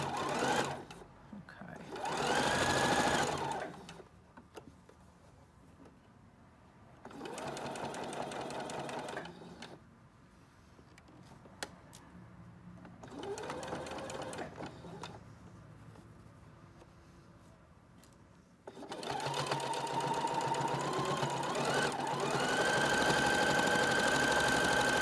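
A sewing machine stitches a long seam on a fleece hat, running in several steady bursts with quiet stretches between, ending in a longer continuous run.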